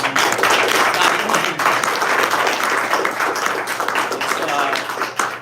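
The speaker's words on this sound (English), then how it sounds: "So give him a round of applause" Audience applause for an event organizer on the opening night of his third annual event: dense, steady clapping from a crowd, loud and sustained throughout, with some voices mixed in.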